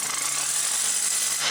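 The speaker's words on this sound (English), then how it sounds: "Keep sitting there for hours and drilling holes." Rock drilling to bore holes for breaking up boulders, a steady dense grinding roar that runs unbroken and close for the whole stretch, with no voices over it.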